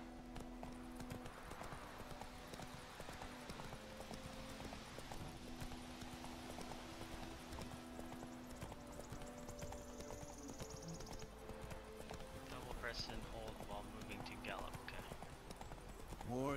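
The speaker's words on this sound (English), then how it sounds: "Hop up, Mr. Roach. Good horsey." Rhythmic hoofbeats of a horse in The Witcher 3: Wild Hunt, steady clip-clop moving along under game music and ambient sounds, fairly close but moderate in level.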